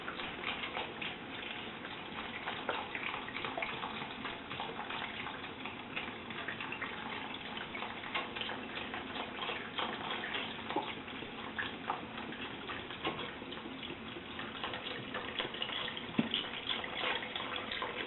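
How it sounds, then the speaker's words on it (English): A whole carton of broth is poured into a soup pot of sautéed vegetables and kale, making a steady, continuous splashing trickle that lasts throughout at moderate loudness. "And to this, I'm now going to add some of the broth."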